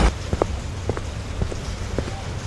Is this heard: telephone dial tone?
no